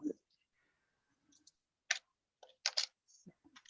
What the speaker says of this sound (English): Somebody has a really loud keyboard.